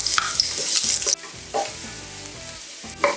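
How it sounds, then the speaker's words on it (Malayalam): Garlic fries in hot olive oil in a pan, crackling and hissing while a utensil scrapes and stirs in short bursts, and no one speaks. "ആദ്യം തന്നെ ഞാൻ ഗാർലിക്കാണ് ഇടുന്നത്."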